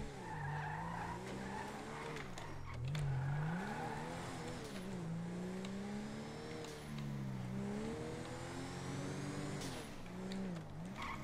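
A car in the video game GTA V drives hard, its engine revving up and down in repeated sweeps while the tires squeal and skid, loud and continuous throughout.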